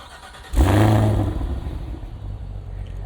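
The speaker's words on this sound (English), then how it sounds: "And let you hear this remote start." A 2025 Cadillac Escalade V with a supercharged V8 fires up by remote start with a sharp, loud rev flare, then settles into a steady, deep idle rumble, close by.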